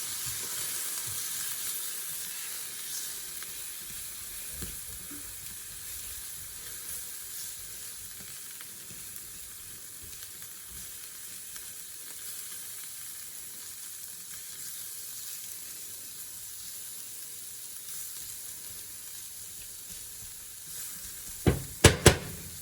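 Onion, chilli, bacon and mixed spices frying in a pan, a soft, continuous sizzle heard up close, with a few sharp clanks of a utensil near the end.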